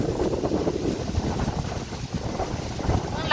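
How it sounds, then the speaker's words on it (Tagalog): Strong wind buffets the microphone in a constant roar with gusty rumbling, no voices, lasting a few seconds. "Ang lakas ng hangin"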